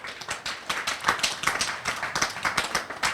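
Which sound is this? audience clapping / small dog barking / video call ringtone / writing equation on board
audience clapping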